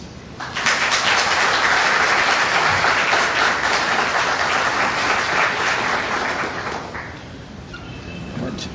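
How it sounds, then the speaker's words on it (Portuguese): A lecture audience gives sustained applause in a hall, welcoming the speaker Moacir C. Araujo Lima to a talk on quantum physics, spirituality and health; dense, even clapping lasting several seconds before tapering off. "vamos receber com uma salva de palmas nosso amigo Moacir"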